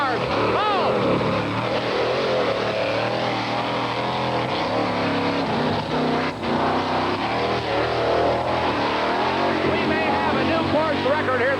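A 1989 Ford Bigfoot monster truck drives over a row of cars at an off-road jamboree in Bloomsburg, PA, its loud engine roaring steadily throughout under an excited announcer and crowd noise.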